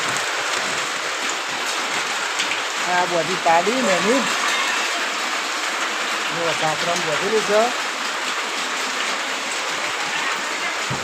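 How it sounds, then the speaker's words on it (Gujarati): Steady heavy rain hisses continuously throughout, close and loud, while a person speaks briefly underneath in two short stretches. "વરસાદ તો ચાલુ છે વરસાદ ચાલુ છે"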